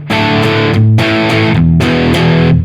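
A distorted electric guitar on its bridge pickup through the drive channel of an OD100 amp, with light crunchy gain and the tone knob rolled halfway, plays loud sustained chords in three strummed bursts.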